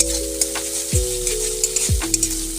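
Milk poured into a curry simmering in a pan sets off a steady, close sizzle and frying hiss, with a few soft stirring knocks and a low tonal hum beneath, no talk.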